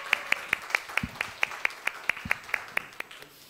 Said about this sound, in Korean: 네, 우리 크게 격려의 박수 하겠습니다.